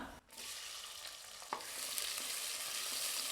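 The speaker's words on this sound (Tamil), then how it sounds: "இதை சேர்த்து நல்லா லேசாக செவந்து வர அளவுக்கு வதக்கி விட்டுக்கலாம்" Onions sizzle steadily in a hot pan for prawn biryani, a loud continuous frying hiss with a brief scrape of stirring partway through.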